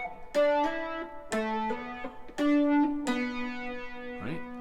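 Electric guitar notes are plucked one by one, each followed by a quick hammered-on higher note, forming a short clean riff with a pitch slide at the end.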